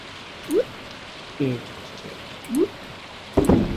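Steady rain hiss in the farming video game Stardew Valley, a soft continuous patter with a few short chirpy game sound effects popping up over it.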